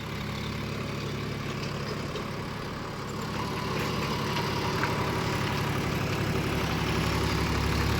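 A John Deere 5050 D 4x4 tractor pulling a rotavator makes a steady, close engine drone as it turns. The drone swells slightly partway through, and no one speaks.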